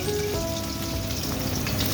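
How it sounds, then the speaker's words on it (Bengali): Fish fries in a pan of oil with turmeric and salt, giving an even, continuous sizzle and crackle that stays steady and moderately quiet throughout, with no voices. "সামান্য খালি হলুদ দিয়ে আমি এটা ভেজে নেব"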